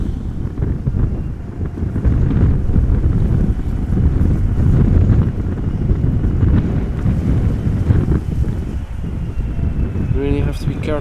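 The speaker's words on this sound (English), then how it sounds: "Really have to be careful that the wind doesn't blow the camera to the right." Strong crosswind buffeting a camera microphone at Amsterdam Schiphol Airport, a loud, continuous low rumble and roar that gusts unevenly throughout, with a brief tonal whine near the end.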